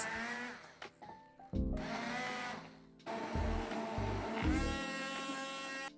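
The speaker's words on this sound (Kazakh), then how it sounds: "Енді осы туралған бананды блендермен еземіз." A blender whirs in several loud bursts, mashing chopped bananas, its motor pitch shifting as it starts, stops and revs again.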